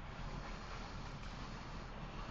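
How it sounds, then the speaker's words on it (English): Rain pours down during a sunshower, a dense, steady broadband hiss that stays constant and fairly faint throughout, with no voices. "Look at that sun blazing and the rain just rolling down,"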